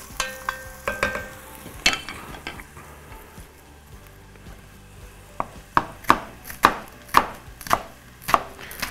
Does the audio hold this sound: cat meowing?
no